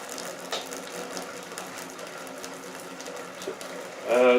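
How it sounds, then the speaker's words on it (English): A small pump draws water from a hot liquor tank into a hose during home brewing of a red IPA ale. It gives a steady mechanical whir with faint ticking, fairly quiet and close, and a brief sharper rattle comes at the end. "So I'll be pumping the water out of there, pumping it in through this hose here."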